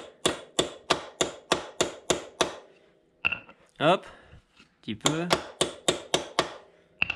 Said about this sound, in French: avec un petit coup de marteau, pas forcément taper fort